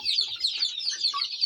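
Young chickens from a farmer's own crossbred flock cluck and peep in quick, soft bursts, close by with no talk.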